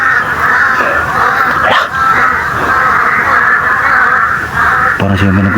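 A large flock of crows caws continuously and loudly, overlapping harsh calls forming a constant raucous din, with a few sharper squawks standing out.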